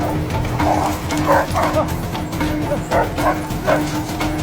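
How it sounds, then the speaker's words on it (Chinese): A dog released by a hunter to give chase barks and yelps repeatedly in short, loud bursts, with rushing background noise throughout. "猎人竟然不讲武德，直接放出了狗子"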